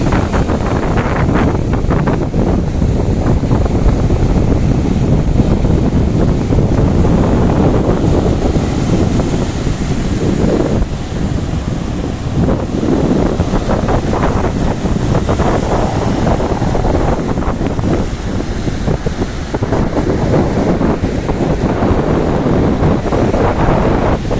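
Steady, loud wind roar buffets the microphone at Marina Beach in Chennai on the Bay of Bengal, with breaking surf washing underneath throughout and no voices.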